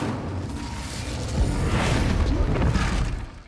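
Fire spell Incendio cast at a training dummy in Hogwarts Legacy, a broad roaring whoosh that swells and crackles for a few seconds before fading.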